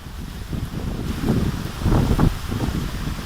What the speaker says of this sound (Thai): ฝนเขย่าเต็นท์ครับตอนนี้ ลมด้วยครับ ลมลมเขย่าเต็นท์